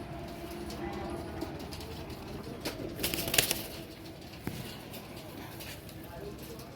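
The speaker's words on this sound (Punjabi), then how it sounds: "ਇੱਕ ਆ ਕਬੂਤਰਾ ਜੀ" A pigeon of a top flying breed flaps its wings in a short burst, faint and mixed with nearby talk and other bird sounds.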